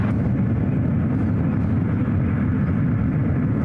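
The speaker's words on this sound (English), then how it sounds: "Alright, Eva, heading back to Taipei, this 777-300ER heading out to the 28s," An Eva Air Boeing 777-300ER taxis out for takeoff at SFO, bound for Taipei, a steady low jet-engine rumble and broadband roar holding constant throughout.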